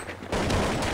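Dense automatic gunfire in a competitive online shooter match, a sudden loud burst of rapid shots that starts partway through and continues unbroken to the end.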